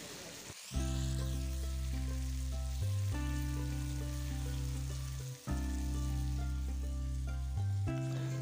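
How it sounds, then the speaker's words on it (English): Taki fish fries in a pan with a continuous close sizzle and crackle. A steady, droning tonal hum sits underneath and breaks off briefly twice, with no talking. "The fish is finished frying."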